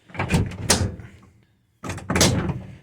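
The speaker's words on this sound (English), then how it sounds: "the coach door is mostly closing now" GMC Silversides coach door being worked during a door repair: two separate thunking, rattling bursts of the door moving and closing, up close, with a short silent pause between them.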